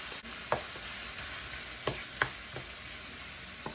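Ground meat seasoned with taco seasoning fries in a pan with a steady low sizzle, while a spoon scrapes and stirs it in several distinct knocks spread over a few seconds, close by with no talking.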